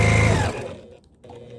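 Close and loud, a sewing machine that leaves a long tail of thread whirs briefly while stitching a beard mask, then slows and cuts off within about half a second, leaving faint mechanical rattle.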